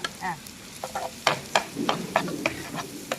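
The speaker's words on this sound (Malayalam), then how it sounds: "അതിലേക്ക് നമുക്ക് ആ കാട പറ്റിയതിൻ്റെ ബാക്കി ഗ്രേവി ഒരു മസാല അങ്ങ് ചേർക്കാം." Small onions sizzling on a tava as leftover quail masala gravy is stirred in: a low frying hiss under a series of sharp scraping and stirring strokes, close and fairly loud, with no voices.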